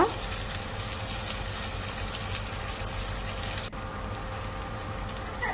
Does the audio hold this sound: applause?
no